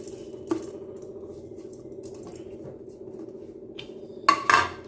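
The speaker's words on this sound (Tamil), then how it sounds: "நம்ம அரிசியை நல்லா வறுக்க போகிறோம் அரிசியை சேர்த்துக்கலாம்" Rice is added to a kadai for roasting, with a short metallic clink early on and a louder rattling clatter near the end, both close over a quiet low hum.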